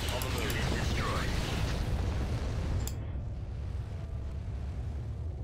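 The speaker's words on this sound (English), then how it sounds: "Oh, they're bombing it." Bombing explosions rumble through a Star Wars: Empire at War battle, a dense continuous roar of booms and blasts with a sharp crack near the middle, loud and sustained throughout.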